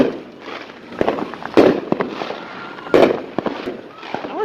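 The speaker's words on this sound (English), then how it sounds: "They're having a firework competition out there." Fireworks from a firework competition go off outdoors in repeated popping bursts and crackles, with two stronger booms standing out. The sound is moderately distant and irregular.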